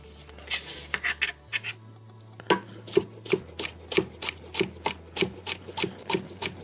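A knife chops green onion on a cutting board, with a few quick strokes first and then a steady run of close, crisp taps. A low hum sits underneath.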